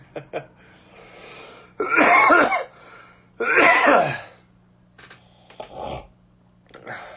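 Several coughing fits from a person tasting a dark, heavily carbonated old beer, the two loudest bursts coming close together with fainter throat noises and a snort around them.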